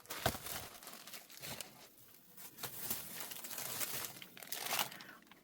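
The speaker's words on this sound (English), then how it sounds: "Use your tissue paper. You could crinkle it up on there." Tissue paper crinkled by hand close up, producing soft, irregular crackles and rustling bursts that come and go in quiet bunches, with no talking.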